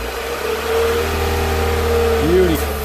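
A 2017 Subaru WRX engine idles and then revs up and back down briefly, loud and close, with people talking over the steady engine hum.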